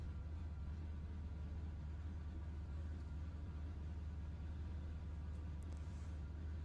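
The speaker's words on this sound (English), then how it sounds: "Let me park the car quickly." Race car idling as it is parked in the Le Mans Ultimate racing game, a steady low engine rumble drones evenly throughout at moderate level with no speech.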